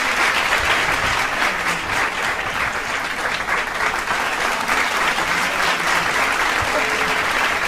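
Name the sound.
audience applause for chief guest at student felicitation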